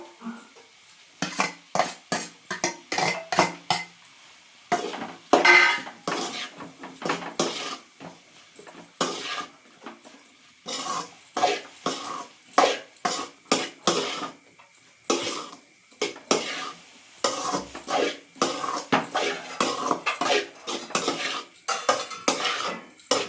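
A utensil clatters and scrapes rhythmically against a pan as egg podi mas is stirred into fried rice, with dense, repeated close metallic strikes and pauses throughout.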